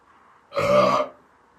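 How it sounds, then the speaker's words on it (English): A single loud burp lasts about half a second, then quiet background remains. "it was an Irish burp"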